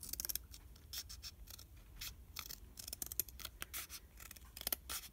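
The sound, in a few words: scissors cutting a journal clip strip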